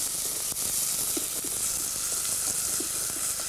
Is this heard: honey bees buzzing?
no